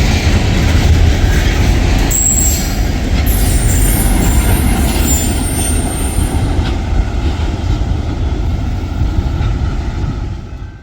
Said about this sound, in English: I thoroughly cleaned off my lens just in time to see the rear locomotive passing by us.